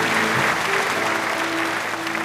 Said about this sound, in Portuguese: Quem pode aplaudir a Jesus nessa noite?